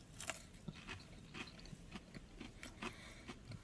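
Crunchy spicy Popeyes fried chicken being bitten and chewed, a series of soft crisp crunches in an irregular rhythm, close and quiet with no talking.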